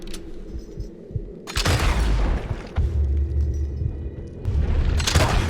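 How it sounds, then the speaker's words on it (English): A double-barreled shotgun fires in Red Dead Redemption 2, with several loud, booming blasts and rumbling echoes spaced a second or two apart. "Really like the shotguns in this game."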